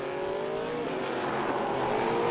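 NASCAR Pinty's Series dirt race cars roar around the track during a heat, a loud continuous engine drone with a rising whine as a car accelerates nearby, with no talking.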